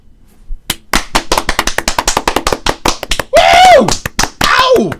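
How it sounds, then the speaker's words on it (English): Two hosts clap their hands in a quick, loud, irregular run of sharp, close claps lasting several seconds, then break into whoops and shouts near the end. "Want to clap it in?"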